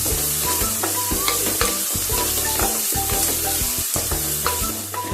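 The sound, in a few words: chopped onions frying on high flame until golden brown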